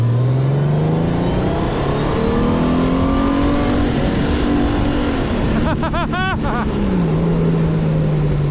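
A 2018 Honda Goldwing motorcycle engine revs hard in sport mode and climbs in pitch, loud and close, with a sharp burst of high rising whines near the end.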